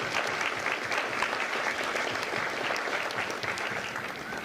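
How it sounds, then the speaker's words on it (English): Steady, moderately distant applause from a large audience at a Marine Corps recruit graduation ceremony, even clapping throughout with no voices standing out. "Give yourselves a round of applause"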